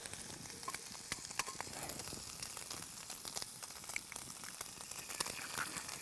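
Eggs sizzle in a camping pan over a camp stove after bacon, a soft steady crackle with scattered pops, fairly faint and uninterrupted by talk.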